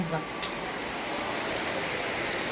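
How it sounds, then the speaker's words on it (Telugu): Heavy monsoon rain pours down steadily, a dense, even hiss of water striking surfaces nearby, continuous and fairly loud with no pauses, and a voice is heard briefly at the start. "అమ్మో వర్షం కాదు ఫ్రెండ్స్, నిజంగా ఒక మాటలో చెప్పాలంటే చాలా ఫుల్గా పడుతుంది"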